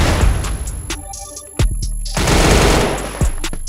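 Rapid video game gunfire bursts loud and close, several sharp shots with brief pauses between volleys, no voices.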